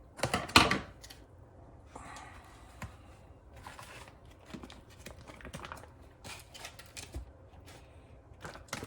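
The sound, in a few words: scissors cutting open a package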